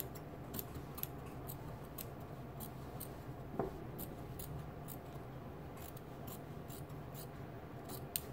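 Quiet, regular snips of scissors cutting pattern cloth, close and soft over a faint background hiss.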